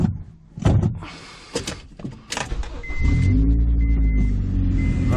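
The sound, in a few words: Honda CR-V car driving on a test ride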